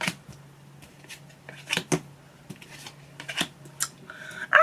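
Tarot cards being shuffled and pulled by hand, close and crisp, with irregular papery riffles and snaps scattered over a quiet room.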